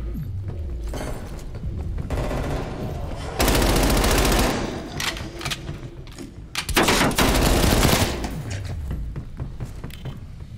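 Gunfire in Call of Duty Black Ops Cold War Zombies: loud bursts of rapid automatic fire mixed with single heavy shots and thuds, coming in dense clusters with short gaps between them.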